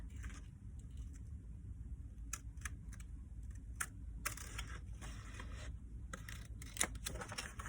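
Scissors snip through paper strips for a planner, producing faint, crisp clicks and cuts in short bursts against a quiet room hum.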